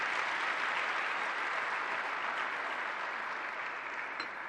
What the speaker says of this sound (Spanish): Usted puede acudir, dele esa ofrenda de palmas.